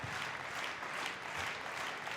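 Steady applause from a crowd at a badminton men's doubles quarterfinal, a dense wash of clapping at moderate distance, with no talking.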